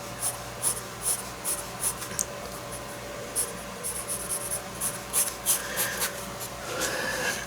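Pencil sketching linear strokes on paper while drawing a New England barn, a close, soft scratching in irregular bursts of quick strokes with short pauses, no voices.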